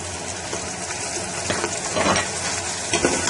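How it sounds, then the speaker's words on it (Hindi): Tomatoes added to minced keema frying in a pan, a loud continuous sizzle and hiss with a few louder bursts and scraping as the mixture is turned. "अब हम इसमें टमाटर डाल देंगे"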